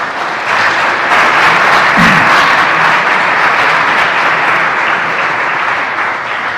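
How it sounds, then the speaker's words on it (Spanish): Loud, close congregation applause during a Spanish-language sermon, a thick continuous roar of clapping sustained for over six seconds, with no talking over it. "¿Cuántos le dan un aplauso al Señor?"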